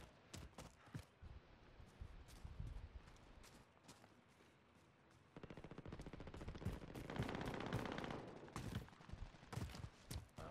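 Rapid bursts of automatic gunfire and single shots in a Call of Duty: Modern Warfare duos match, sharp repeated cracks throughout, with a denser sustained barrage in the second half, loud and close.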